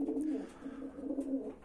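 Pigeons coo in a low, throaty, rolling pattern, several soft repeated phrases close by, with no talking over them.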